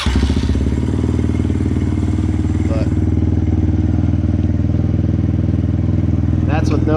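A Kawasaki KLX110L dirt bike engine runs with a steady, loud, continuous rumble throughout, accompanied by brief clatter and a short rev near the end.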